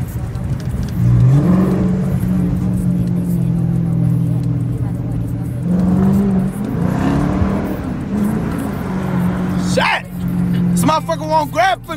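A Dodge Challenger R/T on midnight streets, its engine droning steadily and swelling in revs a couple of times, heard from inside the car while someone talks over it throughout.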